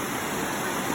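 Kapitan Falls in Malilipot, Albay roars as a steady, dense wash of falling water, unbroken and fairly loud throughout the short moment.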